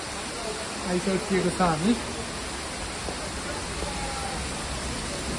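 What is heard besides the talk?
rain falling outside cave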